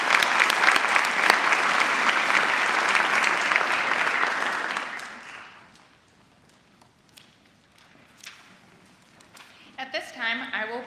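An audience at an honors night applauds in a loud, dense burst that fades out after about five seconds, followed by quiet room noise, a few shuffles and a voice starting to speak.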